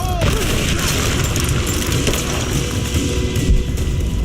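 Gunfire in the Rise of the Tomb Raider video game, a loud, dense barrage of booming shots that runs steadily from start to finish.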